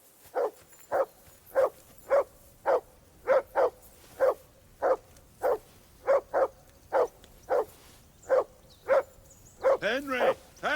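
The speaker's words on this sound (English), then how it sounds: "Call off that mutt of yours!" A dog barks repeatedly in the medieval role-playing video game Kingdom Come: Deliverance 2, with steady evenly spaced woofs close by, ending in a few rapid yips and whines.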